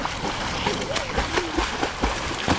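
Constant splashing and sloshing of water close by as a Great Dane swims, choppy and irregular, with voices faintly mixed in.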